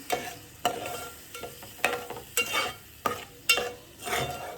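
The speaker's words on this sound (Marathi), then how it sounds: "हलवून घेऊया छान मसाला त्याच्यात मुरू द्या" Mutton masala being stirred in a pan, with a spoon scraping the pan about six times in steady strokes over a soft sizzle, close and fairly quiet, no talking.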